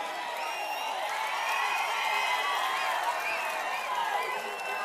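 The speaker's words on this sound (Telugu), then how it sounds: "గట్టిగా చప్పట్లు కొట్టి మేమందరం ఓట్లేస్తామని" Crowd at a political rally clapping and cheering, a steady dense wash of applause and voices held at an even level throughout.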